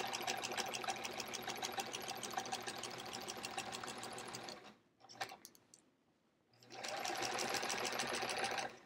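A sewing machine stitches through a quilt in steady, rapid bursts of needle action, pausing briefly midway while fabric is shifted, then resuming at full speed, close and loud.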